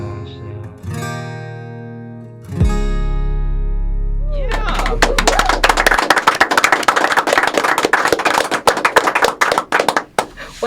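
A live country-style song ends on ringing sustained notes before a small studio audience breaks into loud, crisp applause with sharp individual claps close by, continuing to the end.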